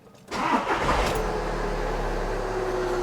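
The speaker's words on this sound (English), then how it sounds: "Let's crank up the car and see what happens." A Volkswagen Jetta diesel engine cranks briefly, catches, and settles into a steady, loud idle rumble that continues to the end.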